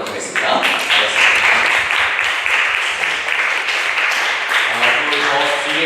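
A church congregation claps during a Sunday worship service to welcome a first-time visitor. The steady, fairly loud applause runs throughout, with some voices mixed in.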